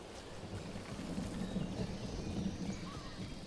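Steady rain falls in a stormy outdoor scene of the video game Dragon Age: The Veilguard, a constant soft hiss with low rumbling beneath, no voices.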